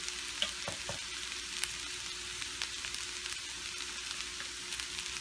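French beans fry steadily in a pan with spices, a continuous close hiss of oil broken by a few sharp crackles and spatters, with no voices.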